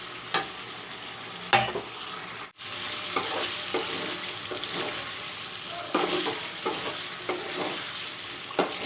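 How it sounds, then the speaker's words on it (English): Chicken korma with masala and dahi sizzles and fries steadily in a pan, with repeated stirring scrapes and clatters over the continuous sizzle and no talking. "the chicken and the masala, dahi, everything is fried up nicely."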